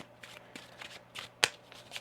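A deck of tarot cards being shuffled by hand, a run of soft riffling swishes with one sharper snap near the end, close and quiet with no talk.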